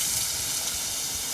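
Beef and onions for bulgogi hitting a hot pan, a loud, steady, close hiss of sizzling that fills the short moment without pause or voices.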